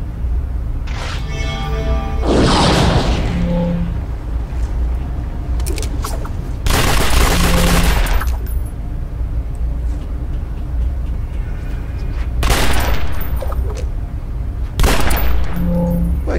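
Gunfire in City of Heroes, bursts of loud rapid shots in several separate volleys with booming impacts between them, over a steady background rumble.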